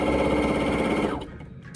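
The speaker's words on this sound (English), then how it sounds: "Let's see if I can sew a little bit more." A sewing machine stitches fabric in a fast, steady mechanical whir that runs loud and close, then stops abruptly just over a second in, leaving faint clicks.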